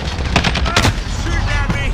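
Rapid gunfire in the video game Modern Warfare, loud, dense automatic bursts with booming impacts filling the whole moment, with a voice briefly heard underneath.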